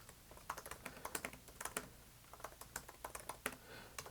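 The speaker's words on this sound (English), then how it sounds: "And I'm going to type my thank you message." Keys clatter on a computer keyboard as a short message is typed, quick irregular clicks at moderate level in a quiet room with no voices.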